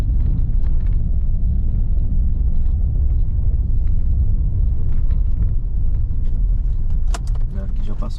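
A car drives on a bumpy dirt road and its engine rumbles low and steady from inside the cabin, with faint rattles and someone speaking over the noise.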